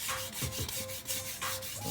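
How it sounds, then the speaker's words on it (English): Sandpaper rubbing against a Nismo wheel rim to smooth uneven spots, repeated back-and-forth strokes, a rhythmic raspy scrubbing heard close up with a faint steady tone underneath. "just going to start sanding the uneven spots"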